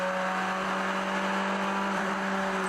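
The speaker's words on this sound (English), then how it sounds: "The 42 Lamborghini is going to stay wide as they go through turn 1." Lamborghini GT race cars running through turn 1 at Watkins Glen during an IMSA six-hour race, a steady high engine whine held at a constant pitch from a distance, alone without talk.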